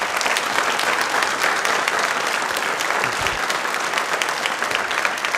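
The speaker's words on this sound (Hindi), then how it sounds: "ताली एक बार जोरदार हो जाए इसके लिए।" Loud, dense applause from a studio audience at a quiz programme held for Ambedkar Jayanti, a continuous roar of many clapping hands sustained evenly for several seconds.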